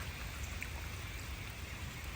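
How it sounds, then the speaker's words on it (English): Steady rain keeps coming down on a flooded garden bed beside a dug dry well, a constant soft hiss of drops hitting standing water with no voices. "It's still raining."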